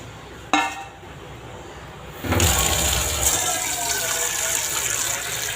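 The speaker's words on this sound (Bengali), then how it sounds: "পরিমাণ মতো জল দিলাম।" Water poured into a pan of small-fish curry sets off a sudden loud rush and sizzling bubbling about two seconds in, which keeps going steadily; a faint clink comes just before.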